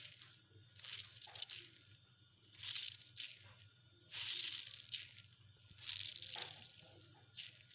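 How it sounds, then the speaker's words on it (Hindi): Hands squeeze water from grated bottle gourd, producing faint, soft wet squishes and trickles in several separate bursts against a quiet background. "अब मैं इनका अच्छी तरह पानी निचोड़ लूँगी।"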